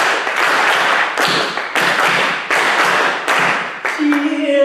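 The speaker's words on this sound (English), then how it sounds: "Oh, you clap too. Let's try the clapping again." Audience clapping along in rhythm to a Hebrew song, Shir HaMalot, at a benefit event for earthquake relief in Turkey and Syria, steady repeated claps with broadband bursts, ending as a sustained sung tone comes through.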